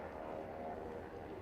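Steady engine drone from a Diamond DA62 twin-propeller aircraft waiting at Manchester Airport, idling at a constant pitch with no change in rhythm, fairly loud and close.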